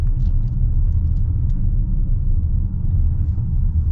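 A 2024 Hyundai Palisade SUV rounding a roundabout, heard from inside as a steady, loud low rumble of engine and road noise with no talking.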